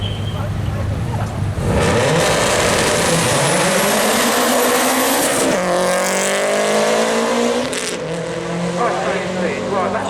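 A Subaru launches hard off the line at the Brighton Speed Trials, its engine roaring up through rising revs with a gear change midway, loud and close, while a commentator talks over the run.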